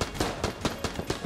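Machine gun enemy in the Enter the Gungeon video game firing rapid bursts, roughly six sharp evenly spaced reports over a second, loud and close with no talking.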